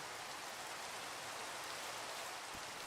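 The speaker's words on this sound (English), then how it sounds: "Wouldn't it be nice if it weren't raining?" Steady rain falling in the Minecraft video game, a dense even hiss of drops that continues unbroken and fairly soft throughout, with no voices.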